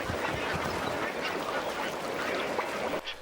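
Dense flock of flamingos at Lake Bogoria honking and calling continuously with baboons nearby, a loud layered chorus of overlapping bird cries.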